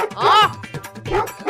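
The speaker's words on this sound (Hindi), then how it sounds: "अरे ये कुत्ता क्यों भौंक रहा है?" Cartoon dog barking and yipping in a few sharp, close bursts, with a voice speaking briefly over it.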